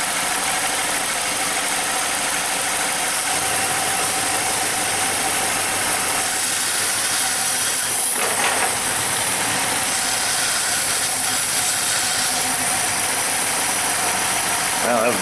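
Saturn Ion 2.4 engine idles with a misfire and a vacuum leak, a steady mid-pitched drone with a constant hiss laid over it and a brief clunk partway through, no voices.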